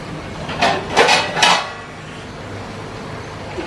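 Pots and serving utensils clink and knock in a home kitchen as half-cooked mixed vegetables for a Chinese-style dish are transferred to a bowl, with three quick clattering bursts, then only a quiet room hum.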